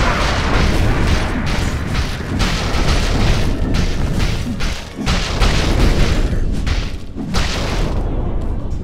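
A defensive tower collapsing in Dota 2, heavy booming crashes and thuds in a loud, dense sequence of impacts lasting several seconds, with game speech mixed in.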